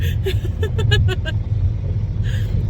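A car cruises along Interstate 44, its steady low road rumble and tire hum filling the cabin while a person talks over it in short bursts.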